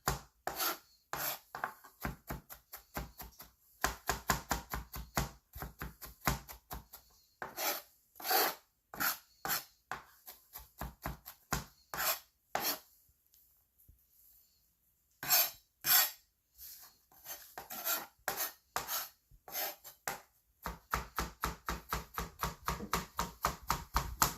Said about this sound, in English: that is how you mince it